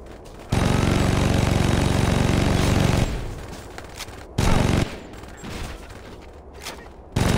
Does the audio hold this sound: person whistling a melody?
no